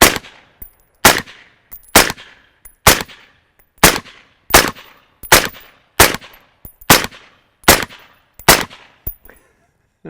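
Rifle shots from a gun fitted with a Primary Arms Cyclops prism sight ring out one at a time, loud and close, about a dozen at a steady pace of roughly one per second, each followed by a short ringing decay.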